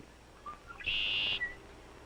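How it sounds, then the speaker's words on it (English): A red-winged blackbird sings in a Kentucky marsh, a faint short call note followed by one bright buzzy trill lasting about half a second, heard alone against quiet background. "The dashing red-winged blackbirds are also at home in the marsh, where they serenade everybody"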